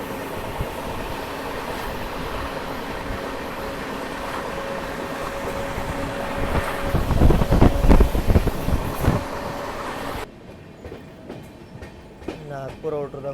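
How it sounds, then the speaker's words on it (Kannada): A Nagpur metro train runs near the airport, a loud rumbling roar with rhythmic rail clatter that swells to a peak midway, then drops to a quieter, thinner passage with scattered clicks. "ಇದು ಮೆಟ್ರೋ."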